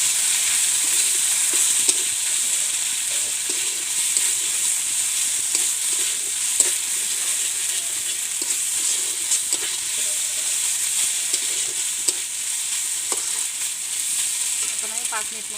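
Spice masala fries in a little mustard oil for a chicken and potato curry, a constant bright hissing sizzle holding level throughout with faint scattered stirring clicks and no voices.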